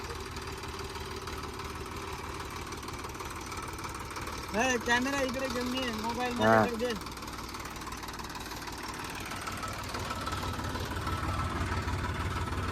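A tractor engine hums steadily and evenly throughout while a woman drives the tractor for the first time. Voices talk over the engine near the middle of the stretch.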